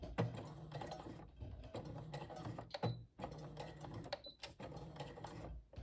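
A sewing machine stitches the side seams of a boxy fabric bag, giving a quiet, close mechanical whirr and rattle in short runs separated by brief pauses.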